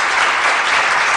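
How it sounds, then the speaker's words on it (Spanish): Loud, dense applause from a studio audience on a Spanish-language health and tourism program, welcoming a urologist and former public health minister; a steady, unbroken roar of many hands with no talk over it. "a quien recibimos con un fuerte aplauso"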